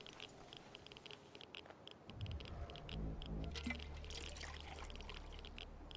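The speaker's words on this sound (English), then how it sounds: "We're gonna refill our water real quick" Water pours and trickles steadily from about two seconds in while refilling a canteen in the post-apocalyptic RPG Wasteland 2, a continuous liquid stream that holds to the end at moderate level.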